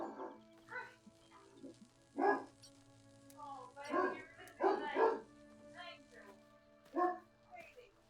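A pet dog gives several sharp, high barks spaced a second or two apart, fairly close, over a steady low hum.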